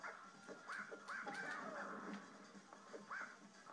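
Dog yips and barks in Naruto Clash of Ninja 2, a fighting video game, as short repeated calls over busy game sound effects.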